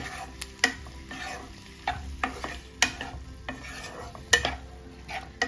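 A spatula stirs chilli chicken through its sauces in a hot pan, with steady scraping strokes and sharp clacks against the metal over a constant low sizzle, close and moderately loud.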